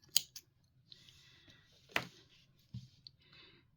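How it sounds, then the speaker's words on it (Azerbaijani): Scissors snip leftover yarn during crochet work, a few quiet, close metallic snips and clicks spaced irregularly against near silence. "Bu artığı da kəsirəm."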